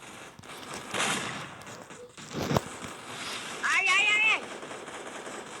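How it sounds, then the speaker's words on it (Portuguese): Sharp gunfire bursts from a game, a few scattered shots and a crackling volley, with a voice speaking over parts of it. "Eu dei um tiro agora"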